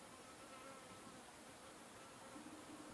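Honey bees buzz around a horizontal hive during a split check, a dense, steady swarming drone that holds loud and unbroken throughout, with no talk.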